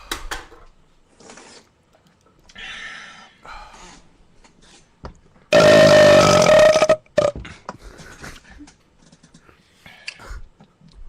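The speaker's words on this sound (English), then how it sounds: "You can smell a monster in my burps." One long, loud, close burp erupts midway after a quiet stretch of faint rustles and clicks, followed by a few softer sounds.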